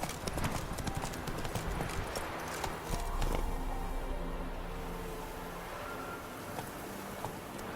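Roach, the horse in The Witcher 3, gallops with steady, rapid clip-clop hoofbeats that stay close and loud throughout, over a faint game ambience.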